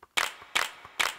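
Hand clap drum sample triggered in Ableton Live, three crisp clap hits at a steady rhythm with a softer ghost hit between them, close and dry with no voices.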